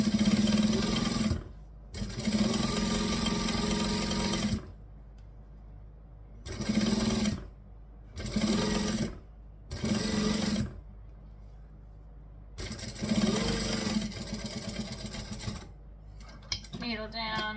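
Sewing machine stitching in repeated bursts: several seconds of rapid whirring clatter, then a pause for needle-down pivots, then another run, close and loud with quiet gaps between runs.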